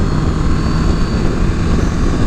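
Freshly tuned vehicle with adjusted valves, new spark plugs and air filter, pulling away from a standstill in second gear: a loud, steady engine drone with wind rumble.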